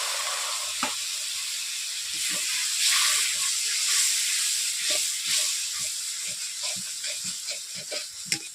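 A steady hiss of steam and sizzling fills the clip, with scattered small pops and crackles as a little water meets hot frying spice paste in a wok for a catla fish curry.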